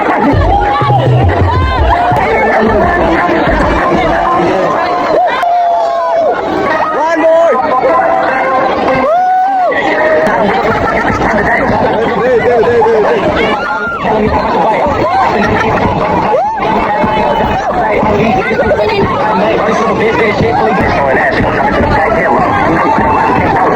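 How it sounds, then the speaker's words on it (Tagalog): A crowd shouts, cheers and dances during a bubble shower at a swimming pool. The dense babble of many voices stays loud and continuous throughout. "Halos nagkakatuwaan na ang lahat, nagsasayawan at nagsisigawan."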